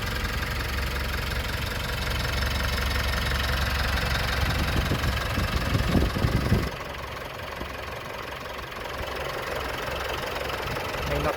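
A 2023 Mitsubishi Strada GLS Triton manual 4x4 diesel engine idles close by, a steady knocking rumble that holds even and then settles slightly quieter partway through.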